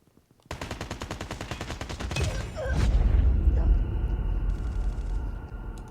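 Rapid automatic gunfire from the mobile game Call of Duty Mobile, a loud continuous burst with dense repeated shots, followed by heavier booming blasts and a sustained rumble.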